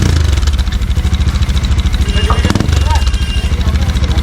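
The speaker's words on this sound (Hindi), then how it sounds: "सबका साउंड चेक कर रहे हैं कि कौन से साइलेंसर से कैसी साउंड प्रोड्यूस हो रहा है" A Yamaha MT15 motorcycle engine runs steadily through its exhaust silencer during a sound check, a loud, close, throbbing mechanical drone with a fast regular pulse that holds for the whole span.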